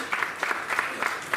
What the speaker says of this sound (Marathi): एकदा जोरदार टाळ्या वाजवून त्यांचं स्वागत करा